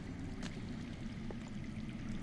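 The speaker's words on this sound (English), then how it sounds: "I hear water. From underground." Steady rushing and pouring of underground water in the Game of Thrones Telltale game, a continuous broadband wash with faint irregular trickles, no talking.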